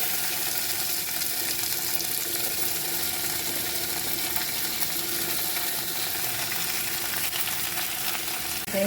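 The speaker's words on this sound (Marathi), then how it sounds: "हे मासे मी फोडणीत मस्तपैकी परतून घेतले आहेत." Pieces of fried mackerel are sautéed in a spiced oil tempering for a Konkan fish curry, giving a steady, close sizzle with faint scraping and stirring throughout.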